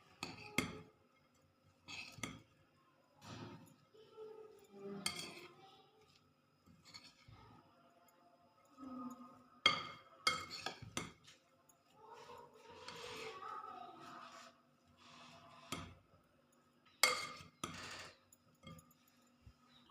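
Dry spices being stirred together in a bowl for an onion-potato breakfast dish, with scattered light clinks and scrapes of a spoon against the bowl amid kitchen handling noises.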